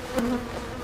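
Honey bees buzzing around an open hive during a full inspection, a brief close whine of a bee passing near over a soft background hum.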